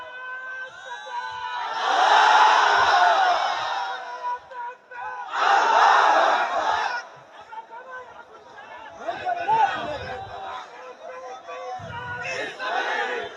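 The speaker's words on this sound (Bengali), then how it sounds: "বিবাহিত ভাইরা তাকবীর দেন, দেখি কার গায়ের জোর আজকে কত বেশি" A crowd of married men at a religious gathering shouts takbir together in loud, roaring bursts that rise and fall, with chatter and scattered voices filling the gaps between the surges.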